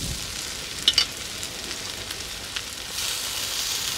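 Lau (bottle gourd) greens dropped into a hot pan with prawns, giving a steady hiss of frying with a couple of brief clatters early and the sizzle swelling toward the end.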